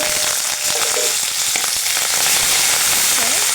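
Washed curry leaves hit hot oil in a pan and burst into loud, crackling sizzle, with sharp spits and pops over a continuous frying hiss.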